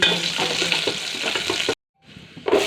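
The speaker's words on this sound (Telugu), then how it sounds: "ఇప్పుడు ఆ నూనె కాగింది విత్తనాలు తీయేసిన ఒట్టిమిరపకాయలు" Seeded dried red chillies sizzle loudly in hot oil, a close steady frying hiss that cuts out briefly and then resumes.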